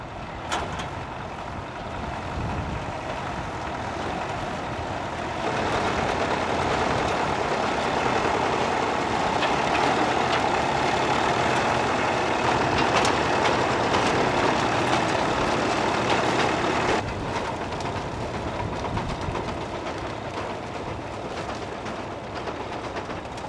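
A vintage 1962-type Vicon Steketee Super sugar beet harvester works in the field, giving off a steady broadband mechanical roar and engine drone that swells louder for a long middle stretch before easing back.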